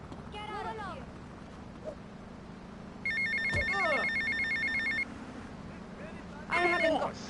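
Payphone ringing in Grand Theft Auto Vice City, two loud electronic ring bursts separated by a pause, mixed with in-game voices talking.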